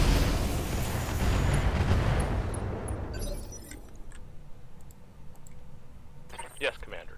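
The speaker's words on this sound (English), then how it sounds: "Let's make sure this guy can't get out of the flames. Fire the incendiaries." Incendiary artillery in RogueTech: a loud, dense roaring blast fills the opening seconds and gradually dies away, followed by scattered clicks and a few small distant pops.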